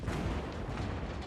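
Heavy naval guns from a warship video game firing on the Carolina, a deep rumbling boom that rolls on as a dense, sustained low roar through the short stretch, with no voices.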